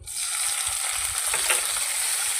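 Chopped tomatoes fry loudly in a pan of hot oil with cumin, dry red chillies and bay leaf, making a constant bright hiss with faint low bumps of stirring.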